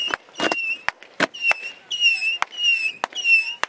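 Saturn missile fireworks go off at a Fourth of July display in rapid sharp pops, with several rising whistles between the bangs, close and loud.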